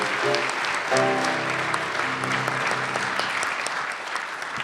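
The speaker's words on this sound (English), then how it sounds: "so big round of applause for all our volunteers." Audience at a regional spelling bee applauds steadily for the event's volunteers, a dense, even clapping that fills the hall for several seconds with a voice speaking over the first moments.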